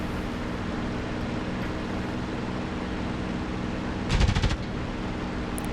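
Twin .50 caliber machine guns on a P-51 Mustang in the DCS World flight game fire one short, rattling burst over a constant engine drone.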